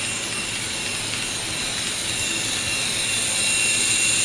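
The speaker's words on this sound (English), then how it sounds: "Toy train. That's all it is." An N scale toy train set runs with a steady, dense whirring hum that holds level and swells slightly near the end, with no voices.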